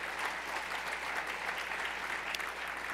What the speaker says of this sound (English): Don't clap, because I only got 3 minutes.